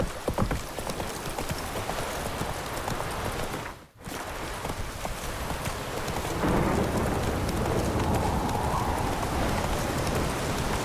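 A horse gallops in The Witcher 3: Blood and Wine, its steady rhythmic hoofbeats clip-clopping close and continuous over a dense, rain-like hiss, with one brief dropout partway through.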